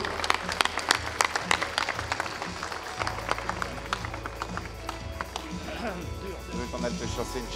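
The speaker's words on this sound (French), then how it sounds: "je vous demande d'applaudir Monsieur Magnin" An audience at the inauguration of an MG business center applauds steadily, a dense patter of many hands over a low hum, with voices talking through it.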